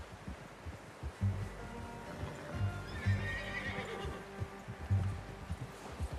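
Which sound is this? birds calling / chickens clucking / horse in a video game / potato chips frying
horse in a video game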